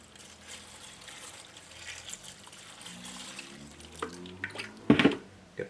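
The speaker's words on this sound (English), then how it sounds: "So I'm going to add a little bit of water." Water is poured into a 12-inch vibratory tumbler, a quiet trickle that builds into a few louder splashes near the end.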